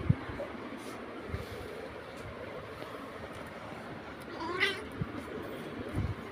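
An angry mother cat meows and caterwauls in a drawn-out wail over faint background rumble, with a few soft knocks and no clear speech.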